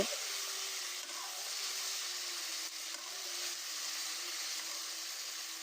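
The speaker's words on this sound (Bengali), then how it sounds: "কড়াইতে তেল দিয়ে দিলাম এর ভিতরে বরবটিগুলো দিয়ে ভালো করে ভেজে নিব" Long beans fry in oil in a wok, giving a continuous, even sizzling hiss at close range with no talk.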